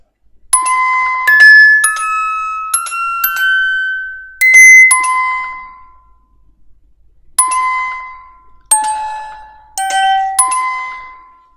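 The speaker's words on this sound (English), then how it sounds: "It's a music box sound" Bright plucked music-box notes from a Sforzando sample player ring out in a slow melody, each tone chiming and decaying, clear and close with a pause before the tune resumes.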